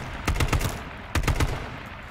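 Automatic gunfire in the H1Z1 battle-royale video game, two separate rapid bursts of several shots each, fairly loud and close, with no talk.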